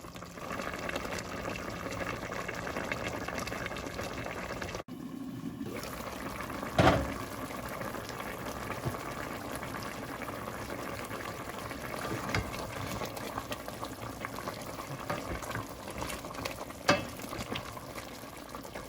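Jamaican oxtail stew with dumplings simmering in a boiling pot, a continuous bubbling, hissing wash with a couple of brief louder knocks and splashes along the way.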